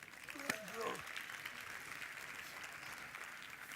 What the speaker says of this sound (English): We surely deserve a round of applause.